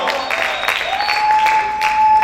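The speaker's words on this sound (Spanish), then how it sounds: "Ponte de pie y aplaude fuerte al Señor" A church congregation claps loudly for the Lord during a sermon, a steady wash of applause throughout, with a sustained tone ringing above it.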